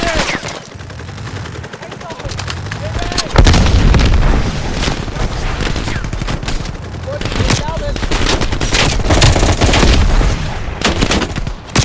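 Gunfire and heavy booms fill a Call of Duty: Black Ops Cold War firefight, with one loud grenade-like blast near the start among continuous rattling shots and impacts. Voices are faintly mixed in.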